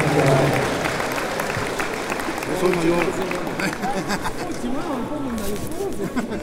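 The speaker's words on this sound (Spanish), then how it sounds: "Aplausos para esta banda." A crowd applauds a band and its director at a musical audition in Santa María Tlahuitoltepec, steady dense clapping throughout with voices mixed in.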